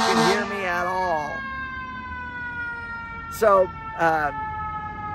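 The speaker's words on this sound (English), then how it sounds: "we got a siren going on behind us" An emergency vehicle siren wails steadily outdoors behind a person speaking in public, holding a long rising and falling tone throughout, with brief louder bursts near the end.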